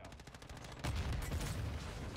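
Battle rifle gunfire in Modern Warfare 2, a rapid string of close shots at first, then a heavier, louder burst of firing and low rumble after the first second, with no talk.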